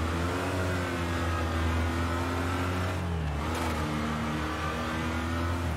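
A race car engine in the demolition racing video game Wreckfest drones steadily at high revs and drops briefly through a gear shift before climbing again, loud and continuous with no speech.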